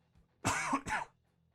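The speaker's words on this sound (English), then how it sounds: "Cut that cough out, please." Two sharp, loud coughs in quick succession, close to the listener, followed by quiet with a faint breath at the end.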